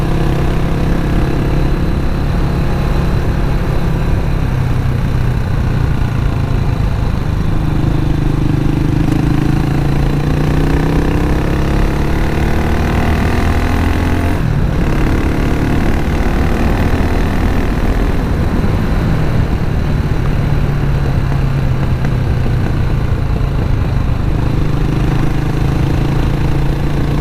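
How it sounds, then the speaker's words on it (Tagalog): A Cafe400 motorcycle with a new exhaust idles continuously and loudly up close, a steady low throbbing exhaust note that wavers slightly in pitch, with no talking. "Ito na po yung tunog ng aking motor ngayon."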